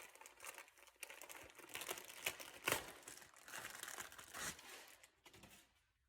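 Plastic wrapping on a new engine air filter for a 2013 Toyota Camry crinkles and crackles as it is pulled open, a close, busy stream of rustling with a few sharper crackles and no talk.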